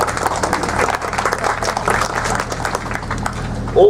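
Audience applause at a centenary speech event for Edward Millen House, steady, dense clapping filling the room throughout, fairly close and loud.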